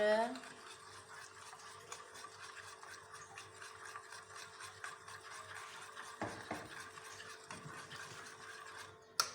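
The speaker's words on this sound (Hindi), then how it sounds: "अब मैं इसको मिक्स करूँगी अच्छे से" A spoon stirs a thick yogurt mixture for dahi bade in a bowl, making soft, continuous scraping and swishing. The sound is faint and close, with a few louder knocks against the bowl toward the end.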